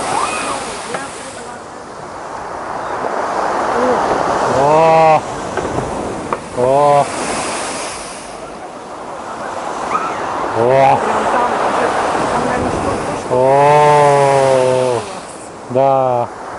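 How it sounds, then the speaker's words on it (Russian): A big storm wave breaks on a beach, a broad rushing roar of surf and spray rising and falling, while a voice cuts in several times with short exclamations over the crash. "Вот сейчас будет хорошая волна."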